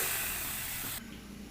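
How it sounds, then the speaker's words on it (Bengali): Water poured into a pot of pan-roasted semolina, giving a loud steady sizzling hiss that cuts off abruptly partway through and leaves a quieter bubbling simmer, close up with no talk. "এবার দিয়ে দেব একই বাটি পরিমাপ করে দুই বাটি পরিমাণ জল"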